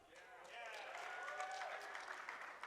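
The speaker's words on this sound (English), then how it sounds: "Pity applause" Scattered, lukewarm applause from a live convention audience at a PAX East 2020 Dungeons & Dragons panel, a steady wash of clapping that carries on for a few seconds with voices talking over it.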